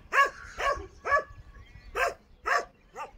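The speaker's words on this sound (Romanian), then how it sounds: "Câine prost." A dog barks six times in short, sharp bursts, close and fairly loud, with a brief pause in the middle of the run, against a quiet background.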